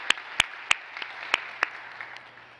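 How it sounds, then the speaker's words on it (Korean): A church congregation claps in thanks to God during Sunday worship, several distinct sharp claps in a loose rhythm, fairly faint in a reverberant room. "그 하나님 앞에 우리 감사의 박수 올렸으면 좋겠습니다"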